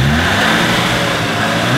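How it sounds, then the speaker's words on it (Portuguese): A Volkswagen Voyage with a turbo engine revs hard and continuously while drifting, a loud, close, sustained engine roar with no pauses. "Danilo foi fazer drift lá em cima, lá, olha"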